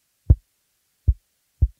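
A finger taps a microphone three times, EQ'd low with the highs cut so each tap lands as a short, deep, boomy thud like a kick drum, with silence between hits.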